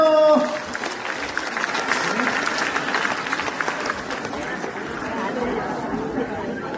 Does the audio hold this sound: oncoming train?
no